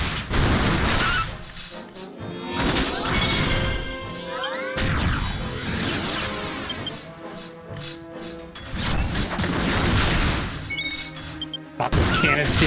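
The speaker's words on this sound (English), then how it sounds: "God, those cannons hit so fucking hard" Heavy cannon blasts from a boss in Dragon Quest X land in loud crashing impacts and booms, layered over battle music and game effects, with a player talking throughout.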